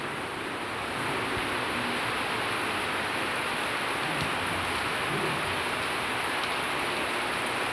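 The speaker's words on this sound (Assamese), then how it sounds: "আৰু এতিয়া বহুত বেছি বৰষুণ দি আছে" Heavy rain pours steadily during a dark monsoon downpour, a dense, continuous hiss that stays constant throughout with no voices.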